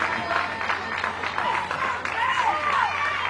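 Applause and clapping at a Little League regional baseball game, brief scattered claps over crowd noise while voices talk and call out throughout.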